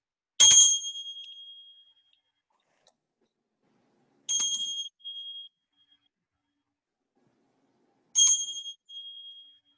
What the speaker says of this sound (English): I'll ring the bell for each bow.